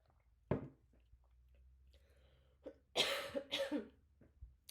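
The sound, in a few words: coughing from smudge stick smoke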